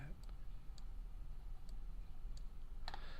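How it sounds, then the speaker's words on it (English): Computer mouse clicking, a handful of sharp, sparse clicks spaced irregularly over a low steady hum, fairly faint. "So we'll figure out the right mouse clicks here."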